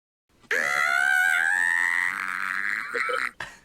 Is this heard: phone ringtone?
no